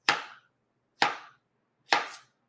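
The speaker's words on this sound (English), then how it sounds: "So now from here, you can cut it into nice thin slices" Knife cutting a mango into thin slices on a board, three distinct, close chops spaced about a second apart, each crisp and short.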